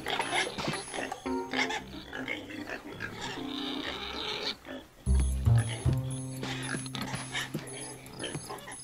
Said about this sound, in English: we in here with the pigs